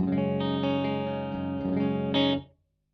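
A distorted electric guitar plays a few sustained chords through an amp without delay, fairly dry in tone, ending abruptly into silence.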